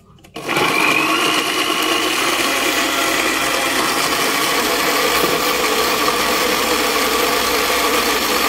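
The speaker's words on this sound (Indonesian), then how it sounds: "Selanjutnya kita blender mangganya ya. Kita masukkan ke blender." An electric blender whirs steadily as it blends mango, starting abruptly and then holding a loud, continuous motor drone close by for several seconds with no talk.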